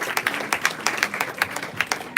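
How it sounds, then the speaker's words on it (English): A room full of people clapping steadily, a dense patter of many hands at moderate volume, with no talking. "Hand of applause to Jackie, Lukin, and Lindy, and JJ for this presentation"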